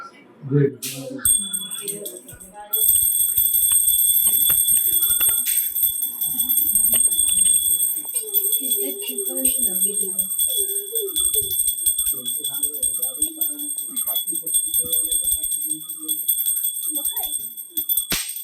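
A small hand bell rung during a Gauri puja at home, a sustained bright ringing tone heard from early on under chatter and children's voices.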